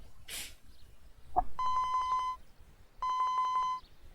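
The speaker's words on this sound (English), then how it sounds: "Osawa's cell phone rang." A cell phone rings in the video game 428 Shibuya Scramble, sounding two bursts of a bright electronic ringtone with steady repeated tones. A brief click comes before the first burst, and a short pause separates the two.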